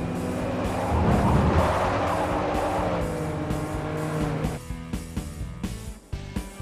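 A Chevy Volt eco car races in Forza, its engine droning steadily with tire squeal and skidding, then shifting to choppier bursts of revving and gear changes toward the end, loud and close with no voices.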